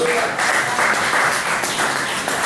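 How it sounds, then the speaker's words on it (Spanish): A church congregation applauds together, a dense burst of clapping that holds steady for a couple of seconds, with some voices mixed into the crowd noise. "¿Cuánto le damos un aplauso fuerte a Jesús?"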